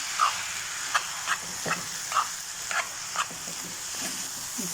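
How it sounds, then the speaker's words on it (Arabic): Ingredients are mixed in a hot pan, with a steady sizzle and about eight regular spoon scrapes and clinks, close and moderately loud. "دابا غادي نخلط شويه العناصر بعضياتهم"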